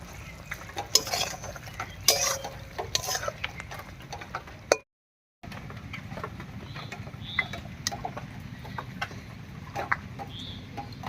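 A lid comes off a cooking pot of spiny gourd curry and the pot is lifted off the stove, giving close metallic clatters and scrapes over a steady hiss, with one brief silent gap.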